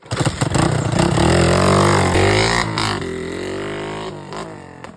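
A motorcycle engine revs hard and close, a loud sustained roar that climbs and holds before easing slightly, with a few sharp bursts at the start.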